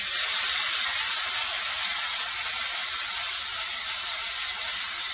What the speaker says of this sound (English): I'm going to take these asparagus, and you'll hear them hit that surface